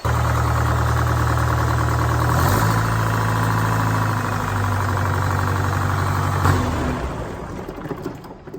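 A 105-horsepower John Deere tractor engine runs steadily at a loud, close, even idle with a deep harmonic drone, shifting in pitch partway through before easing off near the end.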